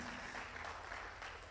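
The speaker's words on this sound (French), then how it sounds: "Vous pouvez applaudir le nom du Seigneur pour sa vie." A church congregation applauding during a sermon, a soft, distant wash of many hands clapping, fairly quiet and steady throughout.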